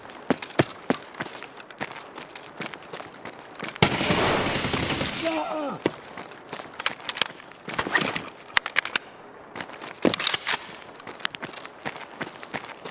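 Rapid full-auto gunfire and scattered shots ring out in the shooter game Escape From Tarkov, with a long sustained burst in the middle, footstep-like clatter around it, and no talk over the action.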